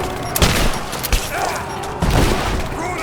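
Rise of the Tomb Raider combat gunfire rattles in several loud, close bursts and single shots over a dense background of battle noise, with faint shouting mixed in.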